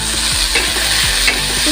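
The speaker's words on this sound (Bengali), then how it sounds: "উচ্ছেটা দিয়ে আমি একটু ভাজা ভাজা করে নিচ্ছি ভালো করে।" Thinly cut bitter gourd strips fry in hot oil in a pan while a spatula stirs them: a steady, close sizzle broken by repeated scraping strokes, with no talking.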